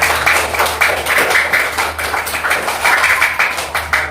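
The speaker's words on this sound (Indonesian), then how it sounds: "tepuk tangan untuk kita semua" A classroom group claps steadily and quickly at the close of an Islamic religious education lesson, dense overlapping hand claps continuing close by for several seconds.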